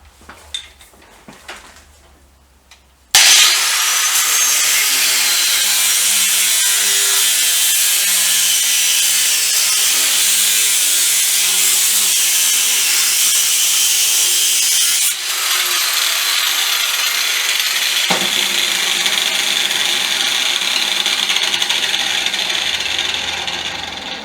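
A 4 1/2-inch angle grinder disc cuts through metal with a loud, continuous high-pitched grinding whine that starts abruptly after a few quiet knocks, wavers in pitch, then sustains with no speech.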